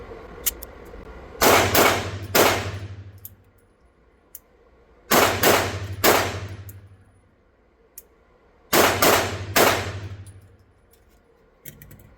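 Three quick strings of shots from a Springfield Emissary pistol in a Mozambique drill, each a fast burst of two or three sharp cracks, separated by pauses with faint clicks between.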